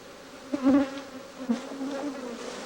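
Honeybees buzz around a royal jelly frame lifted from the hive, a close, steady drone with a few louder swells as individual bees pass near.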